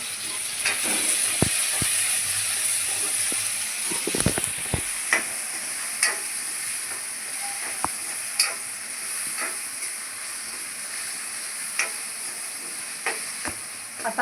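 Chopped tomatoes fry with half a spoon of salt in a pan for dal and spinach khichdi, giving a steady close sizzle broken by sharp pops and crackles.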